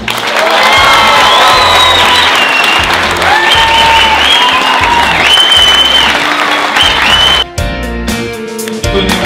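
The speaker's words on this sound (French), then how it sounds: "Applaudissements pour Christiane Taubira" A large audience at a political meeting in the Salle Barbara in Saint-Ouen claps loudly and steadily, with crowd noise and a few cheers. The applause is close and sustained, then breaks off abruptly near the end.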